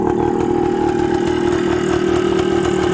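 A Suzuki TS125 motorcycle engine idles steadily and close up, a continuous even putter with no revving and no voices.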